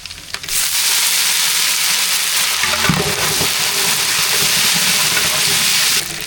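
Mustard seeds, dried red chillies, cumin and curry leaves frying in hot oil give a loud, continuous hiss and crackle that starts abruptly and holds steady for several seconds before cutting off near the end.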